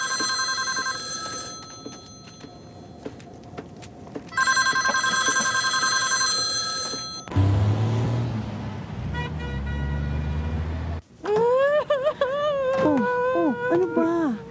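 A telephone rings in repeated bursts of trilling electronic bells, broken by a loud stretch of noise, with a person's voice rising in agitated, wavering tones near the end.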